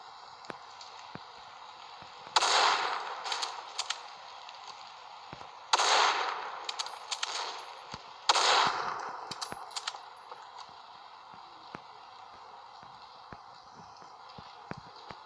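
Gunshots in the Critical Ops mobile game: three loud bursts of gunfire with scattered clicks and clatter after each one, over a quiet, steady game background.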